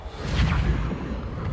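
Reparo repair spell in the Hogwarts Legacy video game, a single brief swelling whoosh with a low rumble, close and fairly loud.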